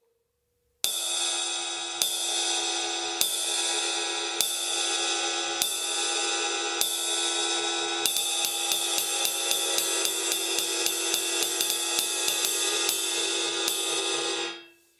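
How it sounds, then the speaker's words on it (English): Ride cymbal struck on the bow with the stick tip, a steady pattern of sustained shimmering pings that starts as spaced strokes then quickens to a denser ride rhythm, close and alone. "Let's look at what you want to do to play the ride cymbal."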